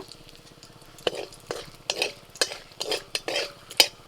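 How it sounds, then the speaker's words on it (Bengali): Whole spices, dried red chillies, bay leaves, cardamom, cinnamon and cloves, hit leftover hot oil in a wok after potatoes were fried, giving a series of sharp crackling bursts and stirring scrapes at a quick, uneven rhythm over a low hiss. "ওই তেলের মধ্যে আমি ফোড়নে দিচ্ছি শুকনো লঙ্কা তেজপাতা এলাচ দারচিনি লবঙ্গ"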